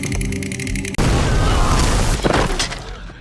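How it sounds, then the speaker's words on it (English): A loud, close explosion erupts in an action movie scene, cutting off a musical passage with a sudden heavy boom followed by roaring, crackling debris and a second burst. "An explosion happened and wiped out Stephen's men"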